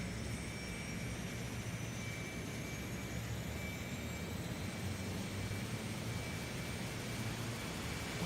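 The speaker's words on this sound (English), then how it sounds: "Beautiful APU sounds" Steady airport ambience with the auxiliary power unit of a ToLiss A321 airliner in X-Plane 11, a continuous broadband jet-like whine and rumble with faint high tonal lines, unbroken and even throughout.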